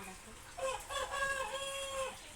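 A household rooster crows nearby in one long, drawn-out call, clear and fairly loud against quiet surroundings, with a brief spoken word at the start.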